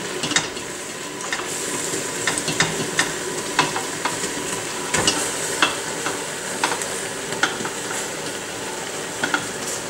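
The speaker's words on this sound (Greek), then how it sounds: "πλέον το κρεμμύδι μας με το σκόρδο και τη μελιτζάνα, και ήρθε η ώρα να ρίξουμε το κιμά της σόγιας" Soy mince frying in a pot with onion, garlic and eggplant, a steady loud sizzle broken by repeated clinks and scrapes of stirring throughout, with no voices.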